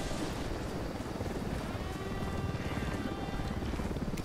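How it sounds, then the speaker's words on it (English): Helicopter in the video game Ghost Recon Wildlands, a steady rotor drone with broadband rumble holding at even, moderately loud level throughout, no speech over it. "Don't need that chopper."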